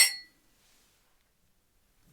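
A single bright clink of glasses touched together in a toast over bourbon, sharp at the start and fading quickly into near silence.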